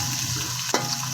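Onions sizzling in hot ghee in a pan while cooking peas pulao, a steady close hiss with a brief stirring clatter near the end.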